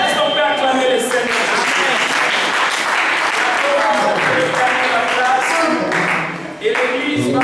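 A church congregation claps loudly and steadily in worship, acclaiming the Lord, with a dense wash of hands joined by music and voices throughout, dipping briefly near the end.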